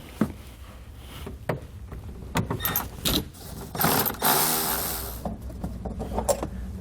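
Ratchet with a 10mm socket backing out a plastic nut at the taillight of a 2018 Jeep JL Wrangler, quick close clicking and rattling in short bursts, with no talking.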